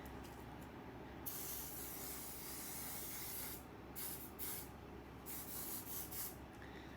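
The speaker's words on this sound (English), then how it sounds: "I think I'm gonna do like hairspray." Hairspray hisses onto hair in a long continuous spray, broken by a few short pauses and renewed bursts, close and fairly soft.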